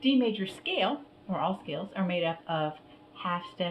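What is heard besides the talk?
No everyday noise stands out behind the speech.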